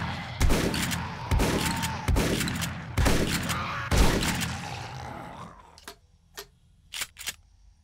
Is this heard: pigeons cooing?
no